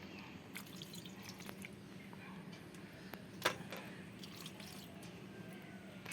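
Water dripping and splashing lightly as ripe peeled mangoes are rinsed in a bowl, a soft steady trickle with scattered drips and one sharper splash, close and fairly quiet.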